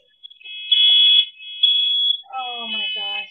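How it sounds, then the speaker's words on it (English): A household smoke alarm beeps in loud, steady high-pitched bursts, with two long tones and a short pause between them, and a voice talks over the last third. "Oh, our stupid smoke alarms."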